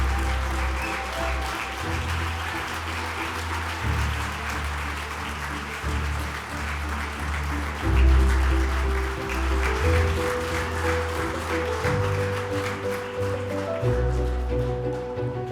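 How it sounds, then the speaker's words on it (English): Sustained audience applause after Andrew Yang's keynote address at a Progress Iowa event, a dense steady wash of clapping running the whole time with music playing underneath. "Let's have one more round of applause for Andrew Yang."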